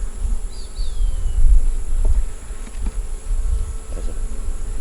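Honey bees buzzing close by on a hive frame, a dense steady drone with shifting loudness and a few brief sharper buzzes as individual bees move past; no voices.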